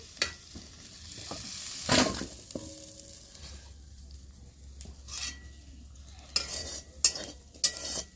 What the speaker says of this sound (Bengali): এবার আমি গাজর আর বরবটিটা কষে নিচ্ছি একসঙ্গে।